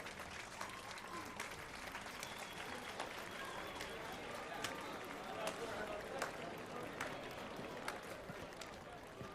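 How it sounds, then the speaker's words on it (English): A small group applauds in a scene from the video game The Witcher 3: Wild Hunt, with a steady patter of hand claps that continues beneath characters' speech. "Ma'am, I'm just clapping."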